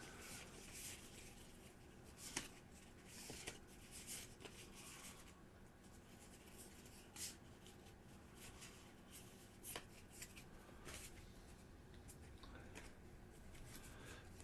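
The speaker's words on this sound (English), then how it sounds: "I'm going to give this a quick shuffle and flip over 1" Slay the Spire board game cards are shuffled by hand in quick, crisp riffling bursts, close and fairly quiet, with a few sharp taps between shuffles.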